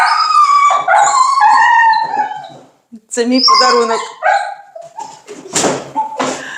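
A two-month-old German shepherd puppy howls and whines in long, wavering cries, close by, followed by short yips while a person speaks over it.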